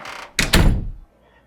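A door in a room is pushed shut with two quick, heavy thuds close together, loud and near, followed by near silence.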